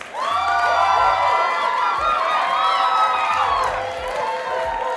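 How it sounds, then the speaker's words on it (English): Cheering and whooping burst out for a guest on a Steelers fan talk show, loud rising voices and shouts with a bit of clapping underneath, sustained through the moment and easing slightly toward the end. "round of applause."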